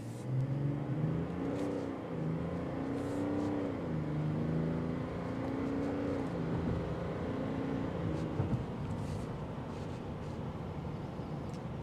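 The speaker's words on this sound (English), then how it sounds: "other than hearing the Duramax engine through the car" A Chevrolet Suburban Premier's Duramax diesel engine accelerating from 0 to 60, heard from inside the cabin as a steady, muffled rising drone with no talking.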